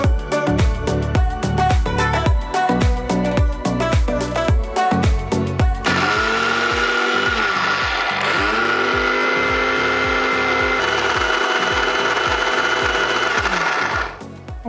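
A kitchen mixer grinder blending brinjal paste for pachi pulusu, a loud continuous whirring motor running steadily with rattling bursts, then a sustained high grind from about six seconds until it stops near the end.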